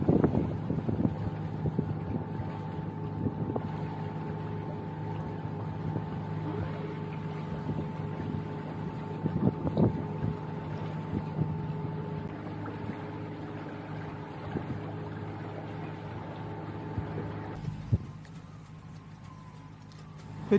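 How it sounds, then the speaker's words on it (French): A katabatic wind gusts from 4 to 22 knots over a boat beside carved rocky cliffs, a steady rumbling buffet of wind against the microphone with a low engine-like hum underneath, loud and close. "Petit phénomène de vent catabatique en l'espace de quelques secondes, de 4 à 22 nœuds de vent"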